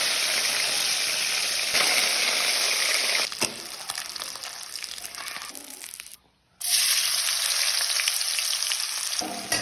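Fish pieces go into a hot pan one by one, setting off a loud, continuous close sizzle that drops away briefly near the end before surging back, with no talking.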